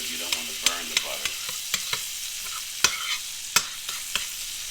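Butter melts and sizzles in a pan beside a grass-fed ribeye steak, a loud, continuous frying hiss broken by sharp clicks and scrapes from a utensil close by.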